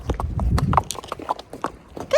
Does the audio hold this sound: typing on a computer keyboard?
no